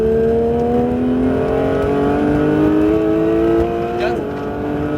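A Porsche 911 GT3 on the Circuit de Mireval accelerates hard, its engine note climbing steadily in pitch with a brief dip and shift near the end, loud and close, with a voice speaking faintly underneath.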